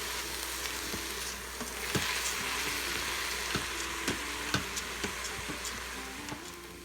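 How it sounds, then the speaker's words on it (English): Rice stirred in an Instant Pot on sauté, a steady low sizzle with a spoon scraping and tapping against the metal inner pot at irregular intervals, close and fairly quiet. "Keep stirring because you don't want the rice to start"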